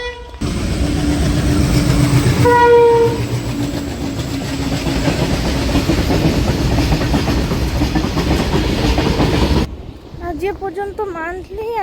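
A passenger train passes loudly at Bagula station with a heavy rumble and rail clatter and a brief horn tone early on; the noise cuts off near the end, when faint voices follow.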